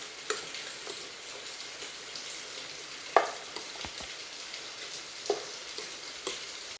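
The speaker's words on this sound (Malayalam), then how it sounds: "ഇപ്പോൾ ഇത് ഇവിടെ നന്നായി തിളച്ച് വന്നിട്ടുണ്ട്" A pan of green peas curry simmers and bubbles quietly, with soft sizzling and occasional pops and a spoon clinking against the side.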